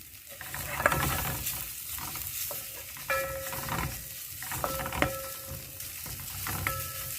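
Egg curry with ginger and garlic cooks in a pan after a little added oil: a soft, steady sizzle with occasional stirring scrapes and light utensil clinks, close but quiet, and no talk.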